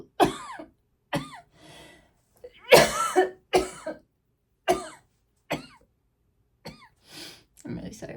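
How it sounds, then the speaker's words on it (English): A person coughs repeatedly in short, sharp bursts close to the microphone, with brief pauses between each fit. "I'm really sorry for those coughs,"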